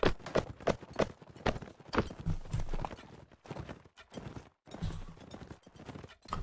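Horse hooves clip-clop steadily in Mount & Blade Warband while a horse is ridden, the rhythmic hoofbeats close and clear, with a brief whinny among them.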